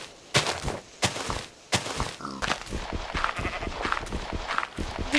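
In Minecraft, sheep bleat in short repeated calls that keep coming over several seconds, fairly close and clear, mixed with brief thumps from gameplay.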